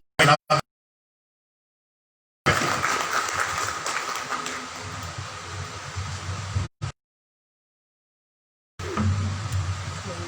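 Audience applause at a book launch ceremony, a dense and sustained crowd clapping broken by abrupt cuts to silence, with a short burst of clapping before and another after the gaps.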